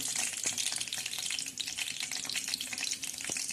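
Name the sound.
cumin and garlic sizzling in hot oil in a kadhai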